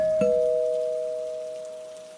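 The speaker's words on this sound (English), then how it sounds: "But Stefan rang the bell." A single electronic doorbell tone rings once and holds a clear steady pitch, slowly fading over a couple of seconds in a quiet space.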